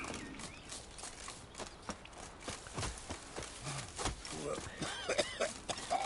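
Galloping horse in The Witcher 3 video game, a steady run of hoof clip-clops heard throughout under mechanical game sounds and some faint game effects, fairly quiet overall.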